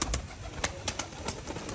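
Pigeons coo at a pigeon farm in Rajshahi, Bangladesh, where Giribaz and Rajshahi breeds are kept. Soft, close, repeated calls sit over a steady background hum.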